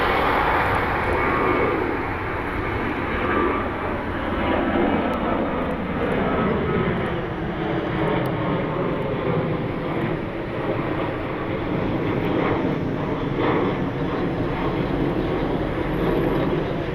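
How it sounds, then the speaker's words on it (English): Southwest Airlines Boeing 737 jet taking off from Cleveland Hopkins, a loud, steady roar of engines held for many seconds with a slow sweeping pitch shift as it passes, no talking over it. "Southwest Airlines 737 taking off."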